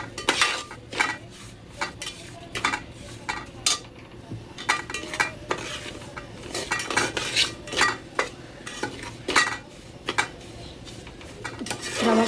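A metal spoon scrapes and knocks against a pan as semolina is stirred continuously while roasting in ghee, giving irregular clinks and scrapes over a soft sizzle.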